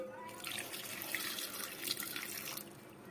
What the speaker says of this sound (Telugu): బీట్రూట్ను మట్టి లేకుండా బాగా కడిగి